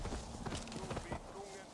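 Horse hooves clip-clop at a quick pace in Assassin's Creed Valhalla, a steady, fairly close rhythm of hoofbeats with a voice talking over them throughout.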